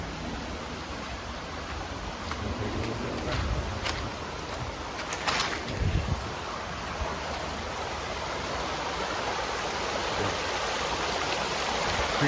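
Creek water rushing along a newly changed creek bed after a storm, a steady broadband wash heard close and constant, with a faint bird cooing in the background.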